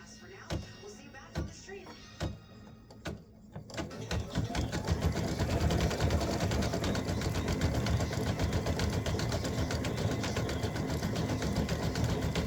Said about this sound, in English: Color stop 19 is going to come here and stitch the text Y-O-U